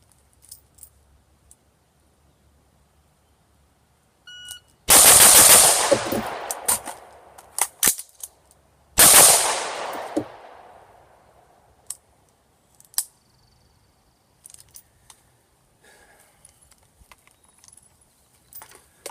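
An AR-15 rifle fires two loud, sharp shots about four seconds apart, each followed by a lingering outdoor echo. Before the shots come the clicks and metallic clatter of an emergency magazine reload, and faint handling noises follow.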